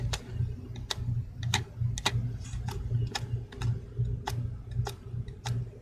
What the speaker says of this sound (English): as you can see that I spin it, I can hear that the ball bearing is giving that grinding sound.